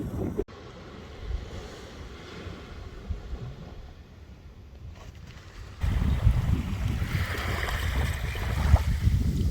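Wind on the Coral Coast buffets the microphone in a continuous low rumble, growing noticeably stronger and gustier partway through, with a water-like wash underneath.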